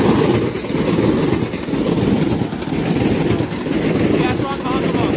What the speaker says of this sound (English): this train's coming fast